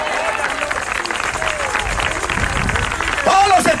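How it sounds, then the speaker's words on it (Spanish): A crowd claps in praise at an open-air evangelism gathering in the main plaza of Monterrey, Mexico. The steady clapping blends with a voice speaking over it, and a louder burst of sound comes near the end. "Esas palmas son de alabanza para el Señor."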